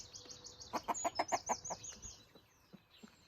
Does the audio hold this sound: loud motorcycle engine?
no